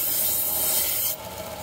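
Knife being sharpened at a farmers market stall, a steady close rubbing, grinding hiss that runs continuously and then drops to a softer, duller scrape near the end.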